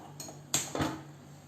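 A cooking pan is set down on a home kitchen stovetop to start gravy: a couple of quick metallic clanks and a clink, close and clear in an otherwise quiet room.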